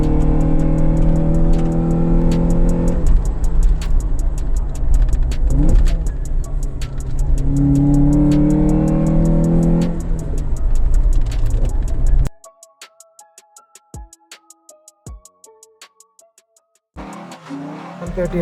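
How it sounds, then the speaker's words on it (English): A 130 HP tuned Suzuki Jimny pulls hard in second gear along country roads, its engine note loud and steady under constant talk for about twelve seconds before dropping to near silence with faint ticks, then returning briefly. "What the stock Jimny can't do is what our 130 HP Jimny can do. Just look at it go in second gear"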